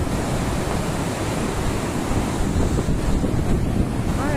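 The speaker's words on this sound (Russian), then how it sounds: "Все-таки в море в шторм есть своя какая-то особенная мощь." Storm waves on the Black Sea pound a deserted, windy beach in Crimea, a continuous loud roar of surf mixed with heavy wind buffeting the microphone.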